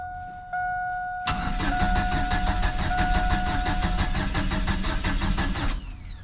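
A GMC Sonoma engine cranks slowly without firing, the starter making an evenly pulsing, labored chug of about twenty beats, close and loud after a steady tone, then a short hiss as it stops.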